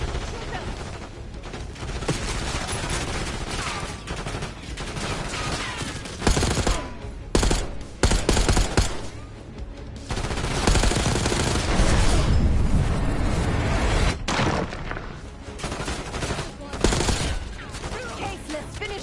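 Sustained automatic gunfire in a Call of Duty: Black Ops 6 firefight, loud and dense bursts of rifle and machine-gun shots layered with explosions and voices shouting over the shooting.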